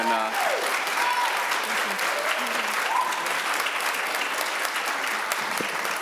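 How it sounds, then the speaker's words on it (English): Sustained audience applause fills a legislative committee hearing room on environment and climate, steady and dense throughout, with a few brief voices rising faintly underneath. "if we can save the applaud for later"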